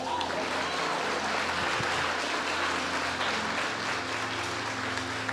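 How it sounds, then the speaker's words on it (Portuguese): A church congregation applauds at a tabernacle festival service: a dense, steady wash of many hands clapping, fairly loud and sustained throughout, with a low hum underneath. "Você pode aplaudir ao Senhor?"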